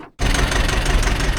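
An old 1956 Kramer KB 180 tractor engine runs loud and close. It kicks in abruptly after a brief quiet moment, then holds a dense, rough, steady rumble with no talk.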